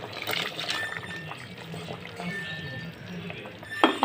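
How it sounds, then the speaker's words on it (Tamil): Thick ground masala paste pours and trickles steadily into a pot for several seconds, with faint kitchen clatter and a brief knock near the end. "இப்போ இந்த மசாலா ஊற்றிடுவோம்"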